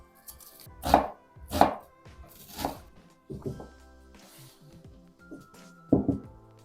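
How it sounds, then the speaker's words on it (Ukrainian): A knife dices onion on a cutting board, several loud irregular strikes with pauses between them, close and clear with no talking. "Цибульку наріжу кубиком і замариную."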